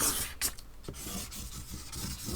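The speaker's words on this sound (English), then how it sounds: "So I'm just going to scribble again at this stage." A dual-tip marker pen with chisel and bullet ends scribbles on paper as quick, close, soft rubbing strokes in short bursts.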